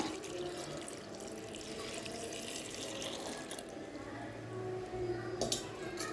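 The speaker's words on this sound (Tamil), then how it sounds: "இப்போங்க ஒரு டம்ளர் அளவு தண்ணி சேர்த்துக்கலாங்க" Water is poured into a cooking pot during preparation of a Tamil bottle gourd kadaiyal, giving a steady running and splashing sound for several seconds, fairly close, with some faint kitchen noise.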